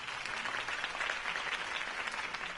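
Steady applause from a crowd in the video game Batman: The Telltale Series, dense clapping that holds at an even level for a few seconds with no voices.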